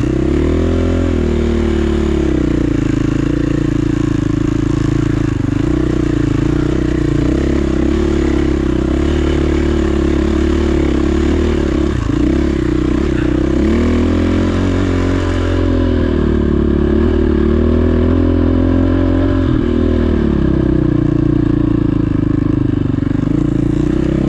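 A dirt bike engine drones loudly and continuously while climbing a steep trail slope with switchbacks on Table Mountain in Washington State, its pitch rising and falling with throttle changes, very close, with occasional clatter and scrape from the terrain.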